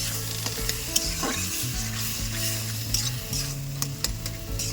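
Bottle gourd sizzles and fries in a pan while being stirred, with steady crackling and scraping of a utensil against the pan throughout, close and clear, with no voices.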